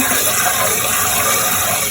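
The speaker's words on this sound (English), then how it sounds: "You're gonna put more water in there and wash the rice until the water is clear" Tap water gushing into a pot of rice being washed in a kitchen, a loud steady splashing rush that stays constant.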